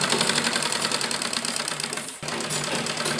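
A sewing machine runs steadily, stitching buckram to the front neckline of a baby dress made from a dupatta. The motor hums close and even, with one brief dip before it carries on.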